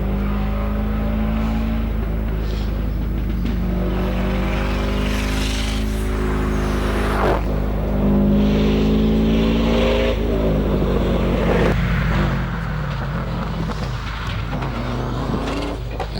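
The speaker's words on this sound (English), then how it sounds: "the Brenton Byfield WRX sports wagon making its way around the hairpin" Subaru WRX sports wagon rounds a hillclimb hairpin at a lakeside event, its engine loud and close, revving up and down through shifts with a steady low rumble, turbo hiss and fading away near the end.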